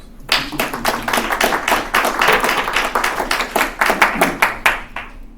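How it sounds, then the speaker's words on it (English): Audience applause at a public health and safety commission meeting, a steady burst of many hands clapping close by for about five seconds with no talking over it. "like to turn the floor over to Captain Watts after we give him a round of applause."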